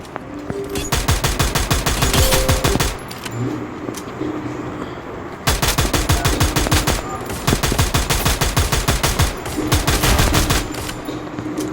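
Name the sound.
M1014 shotgun firing in video game Free Fire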